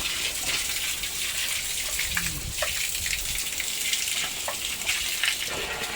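Water gushing and splashing steadily as a pig pen is hosed out on a farm, a continuous close hiss of spray with occasional louder splatters, no one talking over it.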